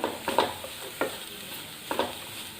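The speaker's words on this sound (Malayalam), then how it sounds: "നന്നായിട്ട് നമുക്കൊന്ന് വഴറ്റി കൊടുക്കാം." Carrot and grated coconut mixture being stirred in ghee in a pan for carrot balls: soft background sizzle broken by a few distinct spatula scrapes and knocks, close by, with no talking.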